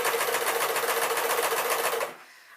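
A sewing machine runs a steady, rapid stitch down the side seams of a pink dress, close and loud for about two seconds before stopping abruptly.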